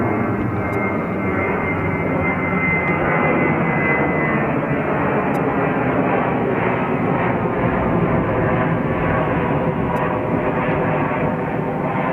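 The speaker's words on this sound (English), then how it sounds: "This Airbus A321-231, 6 years old in age, that these passengers are aboard." Airbus A321-231 jet airliner at JFK airport, its engines a steady, loud broadband roar that holds evenly throughout with no talking over it.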